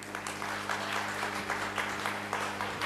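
An audience at a cocktail mixer event claps in steady, sustained applause that is fairly close and fills the whole stretch, with no talking.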